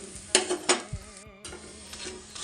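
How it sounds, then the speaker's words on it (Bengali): A Punjabi-style radish paratha fries on a tawa with oil added around its edges, giving a bright sizzling hiss. A few quick spatula scrapes and knocks sound early on, and the hiss briefly drops out before resuming. "এই যে দেখো বন্ধুরা কি সুন্দর হচ্ছে ভাজা"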